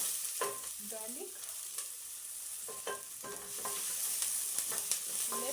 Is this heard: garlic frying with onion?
yes